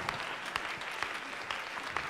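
Parents of the cast of a St Lawrence school Bye Bye Birdie production are applauded by the audience, with dense, even crowd clapping at a moderate distance throughout.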